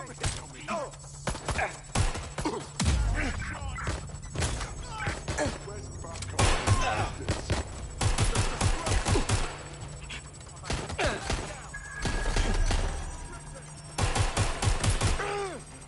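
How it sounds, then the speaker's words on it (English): Gunfire from the Watch Dogs Legion video game comes in repeated sharp bursts and rapid volleys, loud and close, with game character voices calling out between the shots. "I'm taking fire!"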